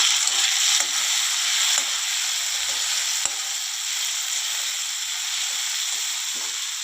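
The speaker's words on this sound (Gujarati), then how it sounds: "હવે આપણે આની અંદર ટામેટાં નાખી દઈશું સમારેલા" Chopped tomatoes sizzle in a hot pan for a ridge gourd curry, with a loud continuous frying hiss nearby and a few light clicks from stirring.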